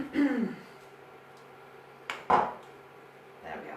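A teaspoon of lemongrass paste is stirred around a pan for a vegan Pan Asian dish, giving a few soft scrapes and light clinks of the spoon, faint and close, with quiet gaps between.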